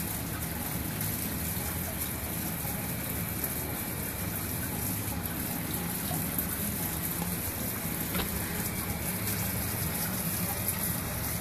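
Water washes steadily through a magnetic underflow setup, making a continuous broadband rush like heavy rain or a gush that holds the same level throughout.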